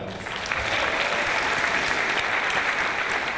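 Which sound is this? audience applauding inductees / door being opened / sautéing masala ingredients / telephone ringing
audience applauding inductees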